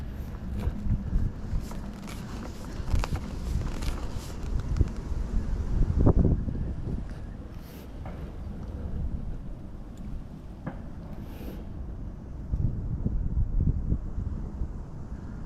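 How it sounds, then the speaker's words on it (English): Wind gusts by the River Thames at a winter fishing match, a low buffeting rumble against the microphone that swells and eases, with faint rustling and no speech. "Oh, that's a bit windy."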